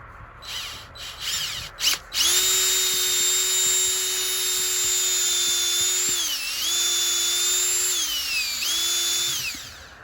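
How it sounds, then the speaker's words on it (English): A power drill whines loudly and steadily, its pitch dipping twice as the bit bores into a maple tree trunk, after a few short clicks at the start. "You're going to drill at a slight downward angle."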